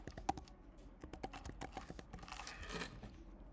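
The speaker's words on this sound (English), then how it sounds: "I'm going to type in paying college" Rapid keystrokes on a computer keyboard while a search phrase is entered into an academic database, a brisk uneven run of close clicks with a few heavier taps and no talking.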